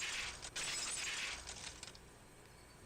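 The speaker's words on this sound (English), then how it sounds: "The unpleasant, piercing sound of shattered glass" A glass-shattering effect from the Higurashi visual novel: a loud, bright crash of breaking glass that spills into a sustained scatter of tinkling shards, fading over a few seconds.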